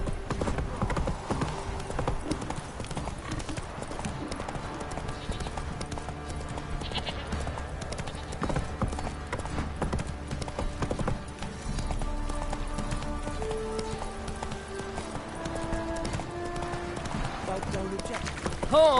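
The horse Roach gallops and trots in a video game, a steady run of hoofbeats continuing under game music and ambience while a voice talks over it.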